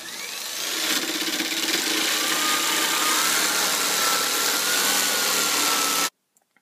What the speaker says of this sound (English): now I'm going to use my jigsaw, and I'm going to cut along these lines until I have my 2 plates cut out